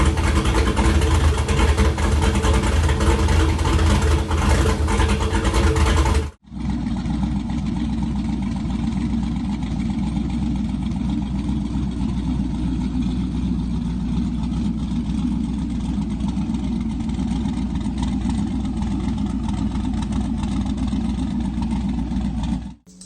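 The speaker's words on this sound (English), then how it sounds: "you may as well have a great big, lumpy V8 noise." LS V8 engine with a lumpy idle, a loud deep rumbling that runs steadily near the microphone, with an abrupt cut partway through before the idle continues.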